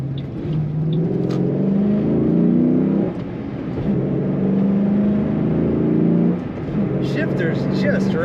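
A 2007 Ford Mustang Shelby GT accelerates on a highway, the engine note rising through gears with steady rumble and whir, a shift dip around three seconds, under road noise.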